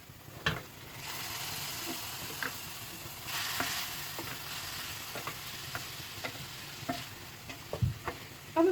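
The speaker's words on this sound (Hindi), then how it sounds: "तो हम इसको मिक्स कर लेंगे।" A spiced fajita chicken mixture sizzles in a pan while a spoon stirs it, giving irregular scraping knocks over a soft, continuous hiss, with no voices.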